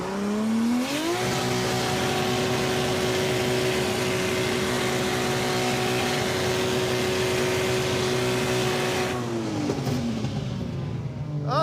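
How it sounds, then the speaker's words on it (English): Steady car engine under high revs from the Roadkill Charger vs Charger contest, a loud sustained drone that climbs in pitch at the start, holds for about eight seconds, then drops off near the end. "I hear engine noises."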